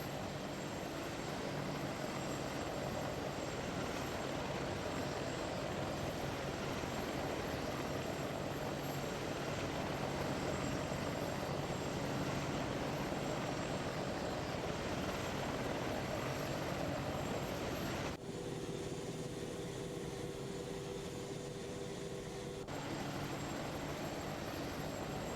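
Aircraft engine and rotor drone in ARMA 3 during landing, a steady loud whine and rumble that holds for most of the stretch, briefly drops in tone near the end, then resumes.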